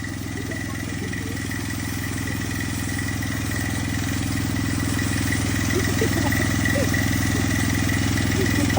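An 18-horsepower petrol engine driving an 8-inch water pump runs steadily throughout, a loud, continuous mid-pitched motor drone with a slight rise in level toward the end.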